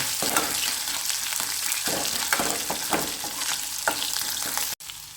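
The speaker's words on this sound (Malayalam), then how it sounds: "ഇനി ഇത് നല്ല മൂപ്പിക്കുക ഇഞ്ചി വെളുത്തുള്ളി നല്ല" Ginger and garlic fry in hot oil for rasam, with a continuous close sizzle and crackle. Repeated scraping stirs run through it, and the sound cuts out abruptly near the end.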